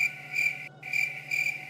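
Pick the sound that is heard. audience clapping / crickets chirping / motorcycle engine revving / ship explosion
crickets chirping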